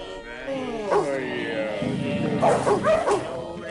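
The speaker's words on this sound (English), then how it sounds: "You dogs aren't allowed to bark." Dogs bark in a rough tavern hall where drinkers sprawl and a fiddle plays: several loud, close, yelping barks and whines come in clusters, with some voice mixed in.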